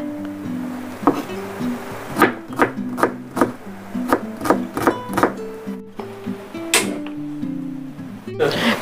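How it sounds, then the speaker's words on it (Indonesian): Knife thinly slicing shallots and lemongrass on a wooden board for squid rica, a run of about a dozen crisp, evenly spaced chops up close with short pauses between. "cukup diiris tipis saja bawang merah dan serai"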